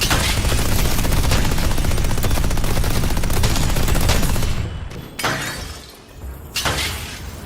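Sustained rapid automatic fire from a deployed turret in a video game, loud and dense for several seconds before breaking into a few shorter bursts with brief gaps.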